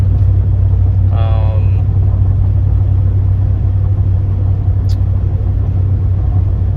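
Outboard motor on a jon boat, freshly fitted with a new spark plug and fuel filter, running steadily with a loud, continuous low rumble throughout.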